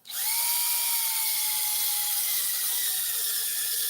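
A cordless drill with a dying battery spins up and whines steadily at high speed while restoring headlights, a loud continuous motor tone with slight pitch drift as it runs.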